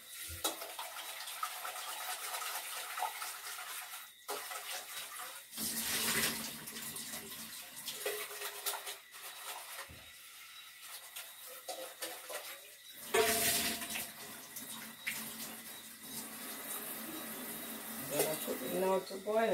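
Tap water running into a pot in a home kitchen, a steady splashing flow that comes and goes in bursts over several seconds, with a person talking throughout.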